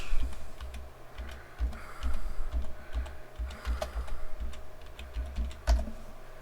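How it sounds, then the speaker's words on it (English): Fingers tap a computer keyboard in short, uneven bursts of light clicks at close range, set over a low steady hum with no voices. "So let's type in graphics cards."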